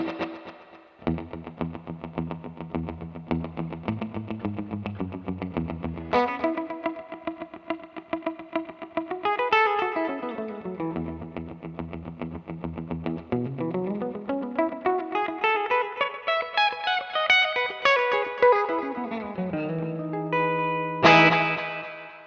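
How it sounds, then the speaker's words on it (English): Electric guitar played through a Universal Audio delay pedal, a melodic line of notes with repeating echoes trailing each phrase in a different subdivision, sustained and fairly loud with no talking. "So this would be a good parts delay."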